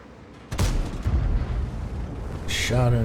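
A tank cannon fires a blind shot in World of Tanks, with a sharp boom half a second in followed by rumbling decay and a second burst near the end. A commentator talks over the game sounds.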